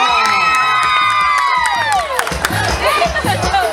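Crowd at an outdoor children's costume contest in a town square cheers and claps for a child dressed as Captain America, loud shouts and whoops over a sliding tone, with clapping and music beneath.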